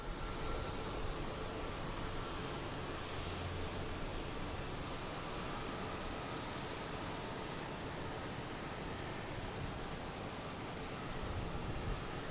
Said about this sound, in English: It is the Delta heading to Madrid, A330-900.